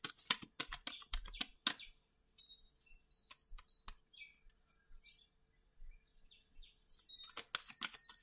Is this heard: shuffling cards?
yes